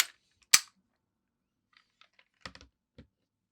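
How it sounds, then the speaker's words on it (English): Hi-Capa airsoft pistol slide release pushed into its hole with a press fit, giving one sharp click, then a run of faint small ticks and a few short clacks as the parts seat, all close and without talk. "Grab your slide release, put that in that hole, push it in, you'll hear a nice press fit"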